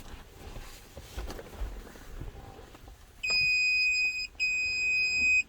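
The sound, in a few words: Autel MK808 scanner beeping during Ram 1500 key fob programming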